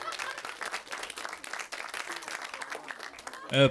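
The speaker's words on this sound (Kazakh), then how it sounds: "давай, шапалақ десем" An audience at a Kazakh stand-up comedy show applauds, a dense close burst of clapping that fills the whole moment, with a voice breaking in at the end.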